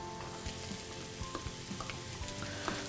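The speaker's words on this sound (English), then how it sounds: "just fry the onion until translucent" Onion frying in a pan, a soft continuous sizzle with small crackles and pops, fairly quiet and close, with no talking.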